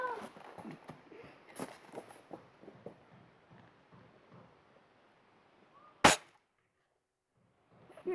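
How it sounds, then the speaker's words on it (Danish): A single sharp, loud crack from an air pistol fired at a bottle rings out near the end, after a stretch of faint voices and background bustle, followed by near silence. "Må jeg godt lige prøve? Sidste skud,"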